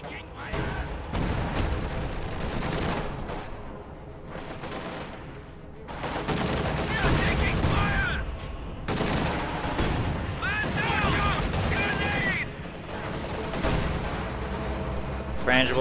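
Panther tank firing at an IS-2 in a video game, amid loud, dense battlefield gunfire and cannon booms, with rapid bursts and heavy shots continuing throughout.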